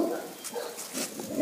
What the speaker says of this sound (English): Oh, that is a big dog.